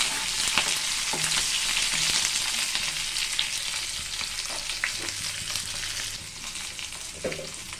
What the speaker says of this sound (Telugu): ఈ ఎల్లిపాయ కూడా ఇలా ఫ్రై చేద్దాం.